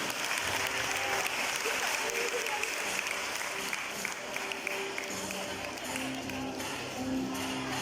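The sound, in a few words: applause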